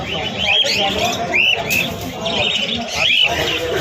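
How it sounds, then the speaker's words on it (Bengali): Bird calls at a busy Krishnanagar pigeon market, with short chirping cries repeating every second or so over a constant crowd murmur and nearby voices. "দেখো সুন্দর কোয়ালিটির ম্যাড্রাস পায়রা আছে ভিতরে কৃষ্ণনগর হাটে।"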